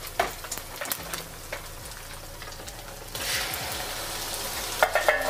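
Shrimp fried rice stir-fries in a hot pan, a close, steady sizzle punctuated by scraping and clinking of a utensil, swelling louder partway through.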